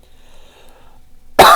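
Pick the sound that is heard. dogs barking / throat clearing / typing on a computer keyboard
throat clearing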